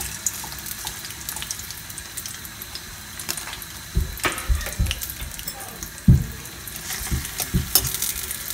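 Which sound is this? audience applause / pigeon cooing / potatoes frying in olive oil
potatoes frying in olive oil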